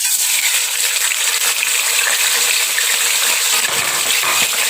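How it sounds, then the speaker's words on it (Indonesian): Tofu frying in a pan of oil, a steady broadband hiss of sizzling with small crackles and a few faint scraping or clinking touches, loud and close throughout with no talking. "di sini untuk tahunya kita goreng seperti biasa ya"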